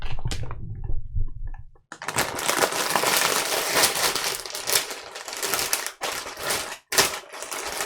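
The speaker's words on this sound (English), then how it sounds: "You just open the bag." A bag of Doritos is torn open and the chips are tipped into a bowl, giving a loud, close, continuous crinkling and rattling clatter after a brief quieter start, with a couple of short pauses.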